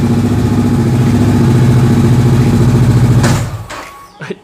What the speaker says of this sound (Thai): สตาร์ทเครื่องครับ เสร็จแล้วก็เข้าเกียร์หนึ่ง